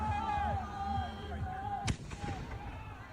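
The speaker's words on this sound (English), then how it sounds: "Here's more fireworks being thrown to the crowd." Fireworks hurled into a crowd of protesters burst with a single sharp, cracking bang, followed by a short crackle, over steady crowd noise and voices talking.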